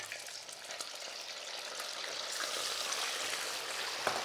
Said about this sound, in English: So it's on a nice high heat, that oil, and I'm going to get my pieces of beef in.